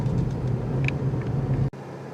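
A 2022 Cadillac CT4-V Blackwing driving on a road gives a steady low engine and road rumble from inside the car, then drops off sharply near the end. There is no talking.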